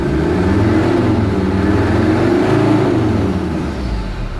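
A car engine idles steadily with an even low hum and slight mid-range whir, close and continuous with no revving, slowly easing off near the end.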